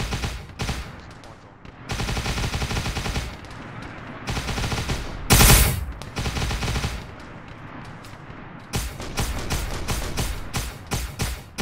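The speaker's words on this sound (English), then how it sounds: "I'm gonna go down and fire at that tree line from ground level." Rifle and machine-gun fire pours toward a tree line in ARMA 3, coming in loud sustained bursts separated by short gaps, with one especially sharp, loud blast in the middle.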